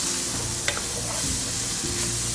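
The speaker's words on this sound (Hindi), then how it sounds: "अब हम इसको मिक्स कर लेते हैं।" Mutton liver masala fries in a pan with gram masala, a steady close sizzle broken by a few scraping stirs over about two seconds, with no voices.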